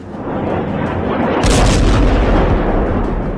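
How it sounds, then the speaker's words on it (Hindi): Missile strikes on Tel Aviv during the Iran–Israel war: a continuous heavy roar of distant explosions and blasts with a louder rumbling burst midway, no voices. "तेल अवीव पर खुर्रम शहर मिसाइलें गिर रही हैं।"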